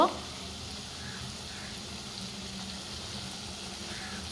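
Chicken with its skin, oil, fried spices and a whole head of garlic sizzle in a pot with a constant, even hiss. A faint clunk sounds at the very start.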